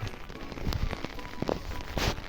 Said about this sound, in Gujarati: ખાલી આવો નવો ઝરમર જ વરસાદ શરૂ છે. એક ધાર છત્રીની માથે સાટા પડે છે કે એને લીધે થોડો ઘણો અવાજ